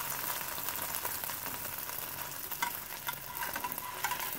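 A bread piece for shahi tukray frying in a pan, giving a steady dense sizzle with scattered small pops and crackles throughout, close and even, with no talking.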